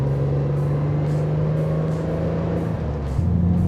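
A Renault Clio V6 engine rumbles close by with a steady low drone that dips and shifts pitch near the end as revs change, no voices over it.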